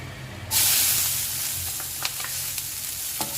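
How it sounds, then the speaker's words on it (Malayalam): Chopped green chilies hit hot oil with urad dal in a pan, setting off a sudden loud sizzle that stays steady and bright, with a few faint scrapes of stirring beneath. "നമ്മുടെ എരിവിനനുസരിച്ചിട്ടുള്ള പച്ചമുളക് ചെറുതായി അരിഞ്ഞത് ചേർത്ത് കൊടുത്ത് വഴറ്റാം"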